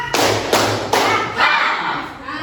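A classroom of students clap together in a rhythm game, four sharp group claps spaced about half a second apart, loud and close.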